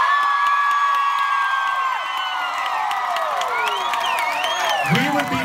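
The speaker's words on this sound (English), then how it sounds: "a big round of applause for International Women's Day" A crowd at a concert in Las Vegas cheers and whoops loudly and steadily, with shouts and scattered clapping blended into a continuous roar throughout.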